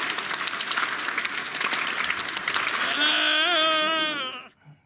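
Applause from a theatrical claque in the stage show La Claque: dense, loud clapping by many hands, joined near the end by a high sustained whistle or wavering vocal tone before everything cuts off abruptly.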